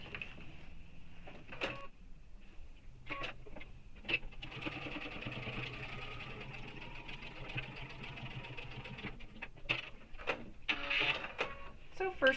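A sewing machine runs a long continuous line of stitching across a backpack seam with a regular presser foot, a steady mechanical whir broken by short pauses and stops, close up.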